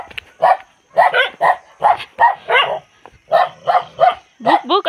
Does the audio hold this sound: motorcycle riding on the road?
no